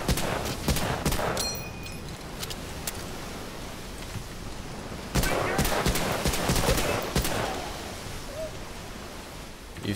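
Sniper gunfire in Medal of Honor: Allied Assault: sharp shots crack out in scattered bursts, loud and close, early on and again near the middle, over a steady roar of battlefield noise.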